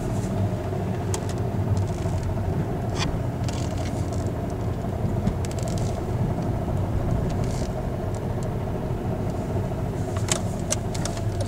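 A 2008 Honda Civic Executive with a 2.2 diesel engine of 140 hp driving, a steady engine and road rumble heard from inside with occasional small clicks and rattles, no talk.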